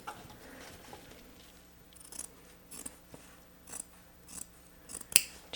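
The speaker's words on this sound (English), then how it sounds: "So I'm going to go ahead and trim off underneath here, and we're going to trim it down to about 1/4 inch" Scissors trim a fabric seam allowance down to about a quarter inch, giving a series of close, crisp snips spaced roughly half a second to a second apart, quiet and without talk.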